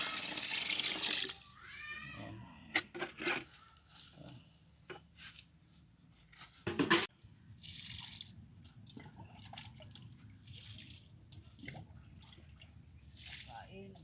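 Tap water runs into a container to soak fertilizer for a bitter gourd crop on a farm, heard in short splashing bursts with drips, while a person talks nearby.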